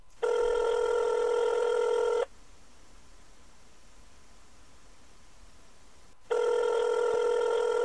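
A Signal app phone call ringing out: two steady electronic ring tones, each about two seconds long, with a four-second hiss-filled gap between them, clear and close.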